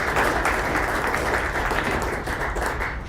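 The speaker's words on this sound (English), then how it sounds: "We could just give a collective round of applause for them" A seminar audience gives a collective round of applause for two speakers, dense steady clapping filling the room before gradually thinning out.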